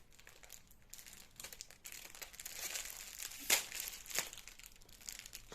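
Plastic sachets of diamond painting rhinestones crinkle and rustle close up in a steady stream of handling noise, with a couple of sharper crackles partway through.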